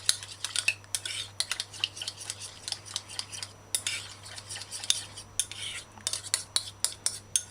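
Homemade tartar sauce ingredients stirred with a utensil in a bowl, giving a steady run of close clinks and scrapes in quick repeated strokes, alone without talk.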